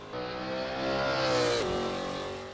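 A sim racing video game car engine revs and climbs through the gears, a steady loud drone rising in pitch before a brief dip at a shift, with no talking.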